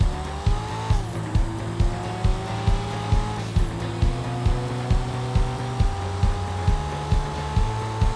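Invetero Coquette, a rear-wheel-drive sports car in a racing video game, brakes with tire squeal and skidding over a steady engine drone, with rapid regular low thumps running throughout.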